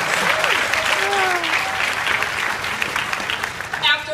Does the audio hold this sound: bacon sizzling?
no